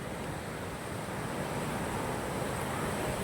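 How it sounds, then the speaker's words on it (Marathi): Big ocean waves at Gokarna beach roar in a continuous, loud broadband wash of surf that never lets up, with some wind buffeting the microphone and no speech. "लाटा एवढ्या मोठ्या यायला जाता."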